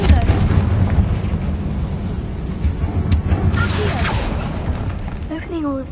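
A Confringo blasting spell goes off in Hogwarts Legacy, a loud close explosive burst with rumbling crackle and debris, then lingering noisy tail over game ambience.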